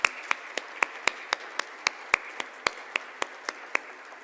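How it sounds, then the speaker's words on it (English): At an awards presentation, sharp, evenly spaced single claps ring out about every quarter second, crisp and close, over a faint murmur of room noise. "Let's give them one last round of applause,"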